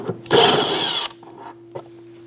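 A 10mm socket tool working loose plastic fender liner fasteners on a 2015-2024 Jeep Renegade rear wheel well, one loud sustained whirring burst lasting under a second, then faint clicks and a short tap.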